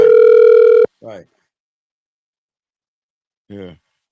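Phone call tone on a Google phone: a single steady electronic beep lasting under a second, followed by two short bursts of speech separated by silence.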